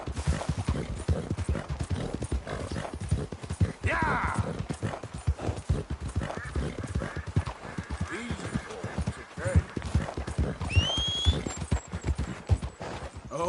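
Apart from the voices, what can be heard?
horse galloping hooves in a video game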